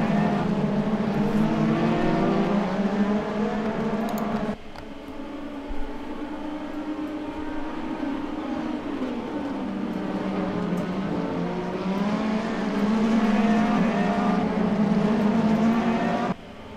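Race car engines from a sim racing game, heard onboard Fikri Sagir's pink BWT car as it follows close behind another car: a loud, continuous engine whine that rises and falls through gear changes, with a brief dip and shift partway through.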